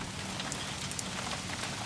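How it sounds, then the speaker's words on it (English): Rain falls steadily in a dense, even hiss with scattered brighter drop taps on a surface, constant throughout and heard without speech. "It's really raining now. Can you hear that rain?"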